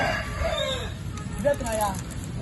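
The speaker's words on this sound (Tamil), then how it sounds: "இப்ப குருவி கத்துறது கோழி கத்துறது எல்லாம்" A rooster crows in the middle distance, its rising and falling call carried over steady background noise, with a second crow shortly after.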